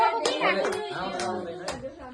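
Hands clap together at a birthday celebration in a quick scattered burst, close and fairly soft, with a voice and other people speaking over the claps.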